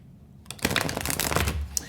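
A deck of tarot cards is shuffled up close, a quick burst of crisp riffling flutter lasting about a second and a half after a brief quiet start.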